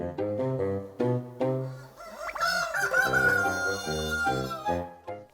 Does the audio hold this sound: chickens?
yes